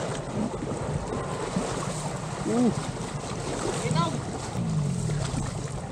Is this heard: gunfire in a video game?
no